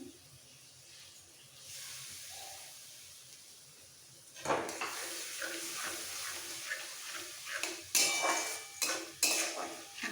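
Spice paste of cashew, raisin, tomato, green chilli and garlic being stirred and fried in a pan for jackfruit kalia, with soft hissing and sharp metal spoon scrapes and clinks against the pan, busier and louder in the second half.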